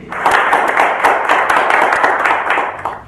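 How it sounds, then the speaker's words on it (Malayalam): An audience applauds a performer with dense, steady clapping that stays loud and close for the whole stretch. "നിങ്ങളുടെ കയ്യടി കേൾക്കുക എന്നുള്ളത് ഈ കലാകാരന്റെ പ്രതീക്ഷയും."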